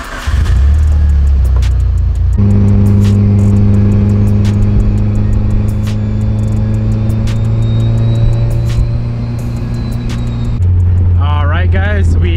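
A warm-running car cruises along, its steady low engine drone and road rumble continuous and close throughout, with a pitch shift as it changes speed near the end and small clicks over the top.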